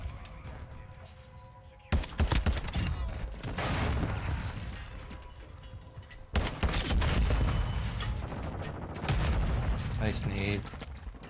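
Grenade blasts in the Modern Warfare II video game, two sharp booming bursts rising out of constant gunfire and battle noise, with players talking over the action.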